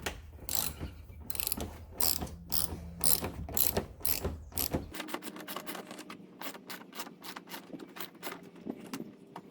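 A ratchet clicks in rapid runs while removing 10 mm bolts on a 2006 Kia Sedona during a headlight low beam replacement, close and fairly quiet, with no talking.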